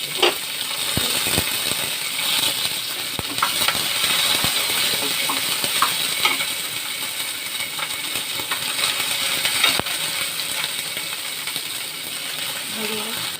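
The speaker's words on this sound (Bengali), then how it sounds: "এবার পেঁয়াজ আর লঙ্কাটা দেবো।" Onion and green chili sputter and crackle in a pan of hot oil for a Bengali fish curry, a steady close sizzle with scattered pops and utensil clinks.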